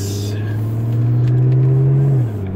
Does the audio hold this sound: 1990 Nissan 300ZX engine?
yes